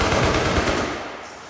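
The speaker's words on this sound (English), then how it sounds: "residents near a San Jose substation woke up to the sound of gunshots ringing through the night" Rapid burst of rifle gunfire at night near a San Jose electrical substation, loud and dense at first, then trailing off into echoing reverberation.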